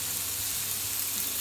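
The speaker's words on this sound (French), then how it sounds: "On va passer à la cuisson donc de notre bœuf." Beef fries in a hot pan with sesame oil, giving a steady, close, loud hiss and sizzle with no talking.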